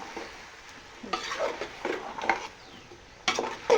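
Eggplant curry sautéing in a pan, a spatula stirring and scraping in short bursts over a soft steady sizzle, fairly close and moderately loud, with no voices.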